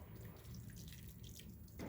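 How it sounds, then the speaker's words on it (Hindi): Salt water poured from a cup onto washed sago pearls, a close, continuous watery rush and splatter with no talking. "अब मैं साबूदाने में डालूंगी 2/3 कप नमक का पानी।"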